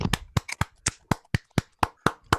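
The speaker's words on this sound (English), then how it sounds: "let's give Ish a round of applause" A few people clapping, a sparse round of applause of about a dozen sharp, separate claps at close range, loud and uneven, with no talking.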